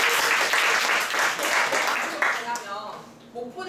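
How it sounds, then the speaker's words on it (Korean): Audience applause and clapping at a Korean school talk, a sustained burst of many hands that thins out toward the end, with voices mixed in. "박수 한번 해요."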